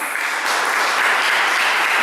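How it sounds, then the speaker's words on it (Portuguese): Applause from a congregation during a church sermon at a Catholic Holy Spirit seminar, a steady, dense wash of many hands clapping together, fairly loud and continuous without pause. "Aplauda Jesus."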